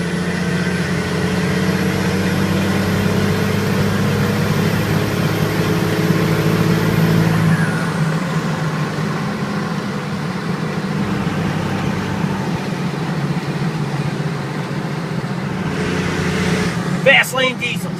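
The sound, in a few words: Cummins Dodge diesel truck driving in sixth gear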